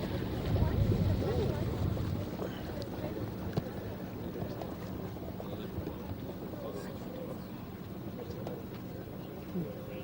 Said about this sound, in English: One of the regular fishing boats